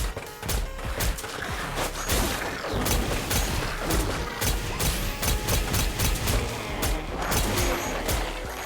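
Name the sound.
gunfire in a video game, hitscan bullets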